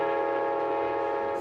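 An Alaska Railroad train sounds a steady, loud, sustained horn blast in Alaska, heard alone throughout the brief moment with no talking.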